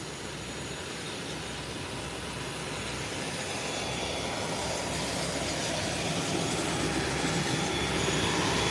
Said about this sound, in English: Sunrise Airline, their Embraer 120 is also taxiing out, preparing for departure.